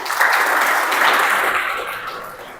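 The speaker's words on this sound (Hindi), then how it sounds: "तो पवन सर के लिए जोरदार ताली।" An audience at a heritage school event in Shimla applauding Pawan sir, with a dense burst of many hands clapping that holds steady and then gradually tapers off.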